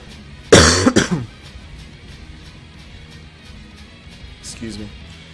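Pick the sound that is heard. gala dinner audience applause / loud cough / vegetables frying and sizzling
loud cough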